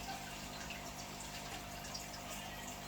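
Water runs steadily from a tap into a 40-litre fish tank, a constant broadband hiss and rush held at even loudness with no talk over it.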